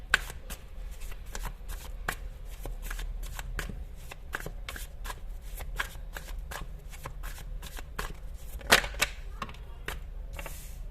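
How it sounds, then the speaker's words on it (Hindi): A deck of tarot cards is shuffled by hand in rapid crisp riffles, a long run of sharp papery snaps at an even pace, close and alone, with one louder flurry near the end. "तो सारे कार्ड्स मैं एक साथ ही निकालूंगी"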